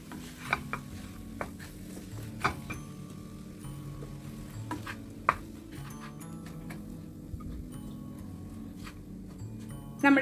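Cooked rice being stirred into capsicum pulao in a pan, with scattered spoon clinks and scraping taps at irregular intervals over a quiet hum.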